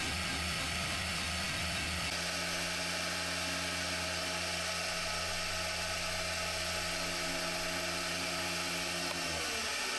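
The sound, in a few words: rose engine lathe cutting a wooden box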